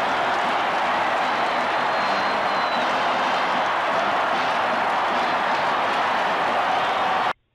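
Huge stadium crowd roaring and cheering as Tennessee beats Alabama 35-28 and fans rush the field, a dense sustained wall of noise that holds steady throughout, then cuts off abruptly at the end.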